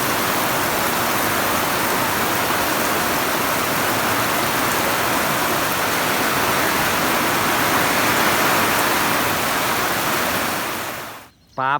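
Heavy rain pours down in a dense, loud, unbroken roar that holds steady for several seconds before cutting off abruptly at the end.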